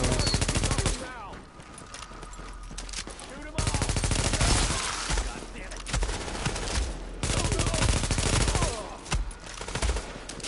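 Sustained bursts of light machine gun fire in a Tom Clancy's The Division firefight, loud, rapid automatic volleys with brief pauses between strings of shots.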